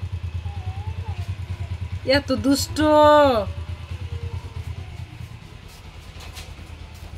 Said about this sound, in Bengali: মোটরসাইকেলে বসে মোটরসাইকেল স্টার্ট দিছে